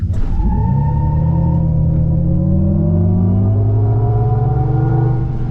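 The Hummer EV SUV launches at full acceleration with all four tires spinning. The electric drive produces a loud, rising, whining hum with layered tones, joined by tire roar and rumble as it climbs in pitch.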